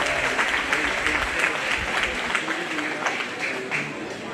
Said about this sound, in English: give all four of those commercial heifer exhibitors a nice round of applause